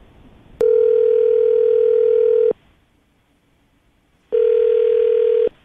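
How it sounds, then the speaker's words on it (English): A telephone line plays a steady dial tone in two long loud bursts with a silent gap between them, no voices present. "I'm going to dial the phone number right now."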